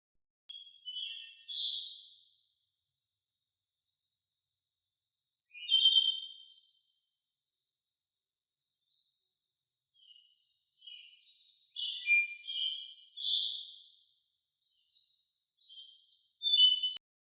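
A continuous high, shrill grasshopper chirping drones on alone, with scattered brighter chirps and trills breaking in now and then.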